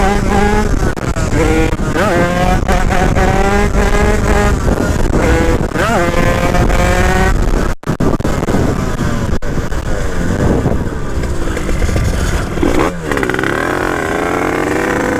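A motorcycle engine revs hard and repeatedly during a wheelie session, loud rising and falling acceleration close to the rider, with rapid throttle surges throughout.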